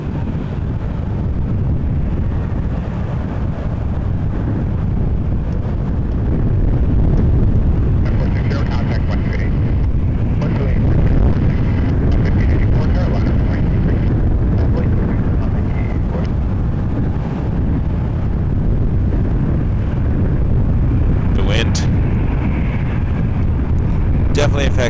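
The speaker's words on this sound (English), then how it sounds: "Envoy 3608 to Chicago O'Hare on an Embraer 170." Embraer 170 airliner at Toronto Pearson Airport, a steady broad jet engine roar with wind noise, sustained and fairly loud throughout with no talking.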